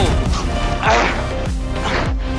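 An all-electric Formula E race car crashes: loud close impacts and scraping crunches come in quick succession amid racing noise, with no clear talking.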